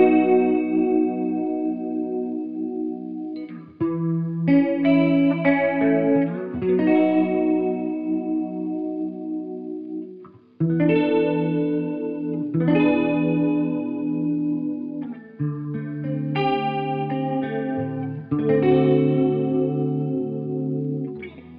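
Clean guitar chords shimmer through an FX67 Stereo Turbo Chorus pedal, with a wide, wavering stereo sound between strums and short pauses between phrases.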